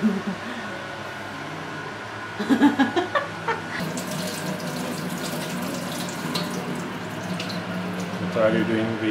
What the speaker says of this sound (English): I'm washing this, the bubble from tapioca.